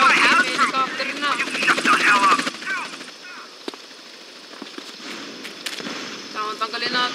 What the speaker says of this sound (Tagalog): Hey, may helicopter na.